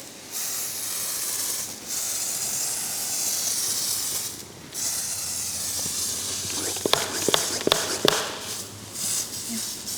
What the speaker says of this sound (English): Next, I cover the whole mat in APC from my sprayer.